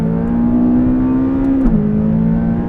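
A McLaren 570S accelerating hard on a race track, its engine a loud, close, rising drone that drops in pitch briefly mid-pull as it shifts gear.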